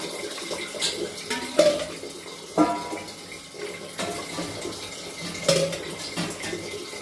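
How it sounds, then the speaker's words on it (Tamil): Five tumblers of water splash and trickle into a metal cooking pot, with occasional clinks of the vessel, fairly close and steady. "அஞ்சு டம்ளர் ஊற்றியாச்சு ஊற்றிட்டு அதை மூடி வச்சு தண்ணி நல்லா கொதிக்கட்டும்"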